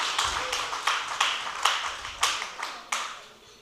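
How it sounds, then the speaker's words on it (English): Scattered clapping from a conference audience honouring former deans at a research mentors workshop, a series of about eight distinct bursts in an uneven rhythm, fairly close and fading between claps, with no talk. "Are we clapping for them with cheerful leads?"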